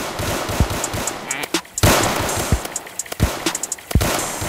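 Gunshots from a gun in a Roblox zombie video game, with several sharp, irregular bursts of game gunfire over a busy background of game sound.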